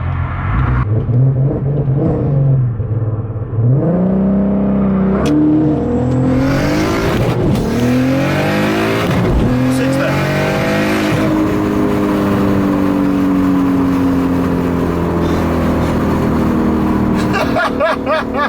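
Audi A3 3.2T tuned to 515 horsepower launching hard on a 0-60 run, engine revving loud and close through rising gear sweeps with shifts and a brief drop as traction breaks.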